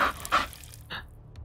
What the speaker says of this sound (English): That's a vicious dog.